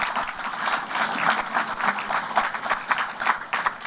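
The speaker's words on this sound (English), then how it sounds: "let's give your teachers a round of applause for bringing this opportunity to you" An audience of students at a youth STEM event held at Google applauds steadily for their teachers, a dense, even patter of many hands at moderate distance with no voices over it.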